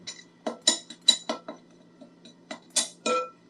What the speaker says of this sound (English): we put the spice mixture into a heat-proof bowl and mix that around